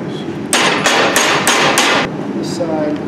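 Five sharp hammer blows ring out in quick, fairly even succession on a forged steel handle clamped in a vise, loud and close, followed by a faint metallic tap.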